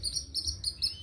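A pet chích bird gives rapid, high, thin chirps in quick repeated bursts, close and fairly soft, with no talking.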